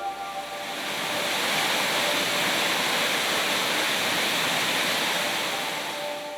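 A remote waterfall in Arkansas roars as a steady, broad rush of falling water, swelling in at the start and holding loud and constant throughout.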